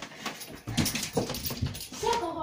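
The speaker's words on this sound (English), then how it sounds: "And then I got the dogs." Dogs whimper and yip in short, high, whining bursts close by, with a voice talking alongside them.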